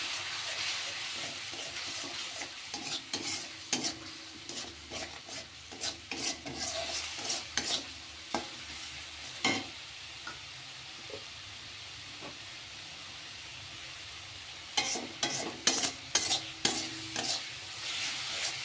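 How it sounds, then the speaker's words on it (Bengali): Cumin powder and aloo dum masala sautéing in a pan, a steady sizzle with scraping stirs in bursts, some louder clatter near the start and end, no talking. "জিরে গুঁড়ো আর একটু আলুর দম মশলা দিয়েছি আমি। সব একসাথে দিয়ে মশলাটাকে কষিয়ে নেব।"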